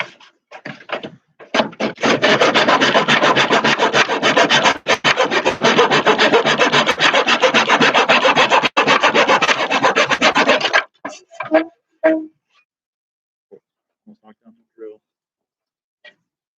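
Rapid, rhythmic rasping strokes as a homemade wooden sliding-door handle is sanded or filed, loud and close for about nine seconds before stopping, followed by scattered light knocks and handling sounds.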